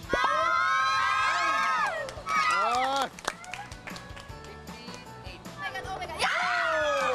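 A crowd of children and adults shouts and cheers loudly during a timed team game at a venue with 70 game tables in Parañaque, with excited screams rising and falling in bursts alongside scattered taps and claps.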